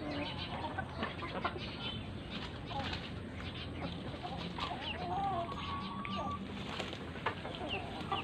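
Jersey Giant chickens in a backyard farm make a busy, steady mix of clucks and calls at moderate distance, with occasional wing flaps and a voice speaking over the flock.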